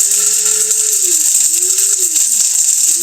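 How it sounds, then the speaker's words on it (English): A loud electric grinder powdering ingredients runs continuously, its high motor whine dipping in pitch as it bogs down under load and then recovering, several times in a row. "But if you can hear the grinder, get them broken up and then really lay on it for a while there."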